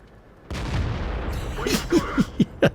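A tank cannon fires in World of Tanks with a sudden heavy boom and a rumbling tail, followed by a series of short sharp impact or reload clanks, with a voice talking briefly over it.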